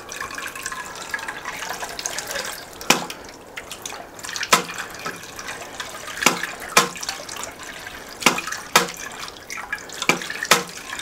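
Water trickles steadily into a homemade water clock while sharp, clear drips and splashes land at irregular intervals, a few seconds apart, close by. No voices are heard.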